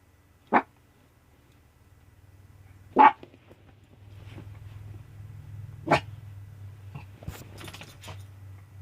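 Small dogs let out a few separate barks, three sharp loud ones spaced a few seconds apart, with softer yips and rustling indoors in between.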